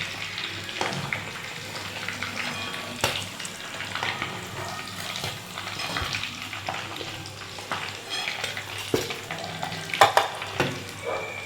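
Potatoes for chicken biryani sizzle and crackle in hot oil, a soft, steady frying hiss with occasional scraping and stirring clinks.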